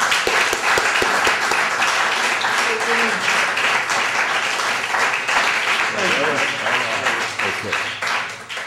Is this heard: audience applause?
yes